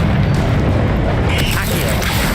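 A spell blast in the Hogwarts Legacy video game, a dense booming burst that fills the short moment, loud and close with a rumbling low end and a brief crackling flourish.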